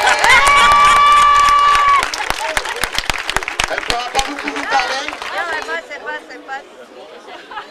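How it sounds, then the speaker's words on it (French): An audience at a school event applauds and cheers for a woman being introduced, with scattered claps and crowd chatter that rise briefly and then fade, mixed with voices talking nearby. "c'est Carla B, on l'applaudit bien fort"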